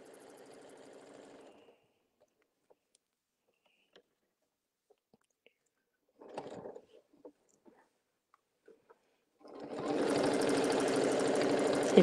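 Domestic sewing machine set back to regular stitching, sewing a quilted 4-patch squared table mat; a steady motor whir runs briefly at the start, then after a quiet stretch of small clicks a louder, sustained run of stitching closes the clip.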